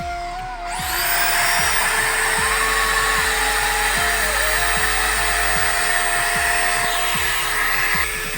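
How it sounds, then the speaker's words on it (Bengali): A power drill bores screw holes into a giant 125-foot Durga idol, giving a loud, steady high whine that runs nearly unbroken for several seconds, with soft, regular low knocks beneath it. "এখানে কাকা সবগুলো ফুটো ফুটো করছে যাতে স্ক্রুপ ড্রাইভারটা লাগানো যায়"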